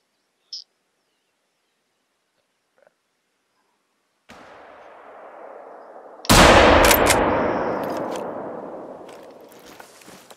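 A single loud gunshot while hunting, a sharp crack followed by a long rolling echo that fades across the open landscape, preceded by faint outdoor hiss and a brief distant chirp.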